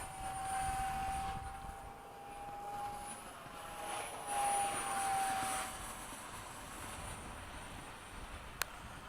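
An FMS 70mm F/A-18 electric ducted fan model jet flies at a park, its steady high-pitched whine swelling and fading as it passes at a moderate distance, with faint wind in the background.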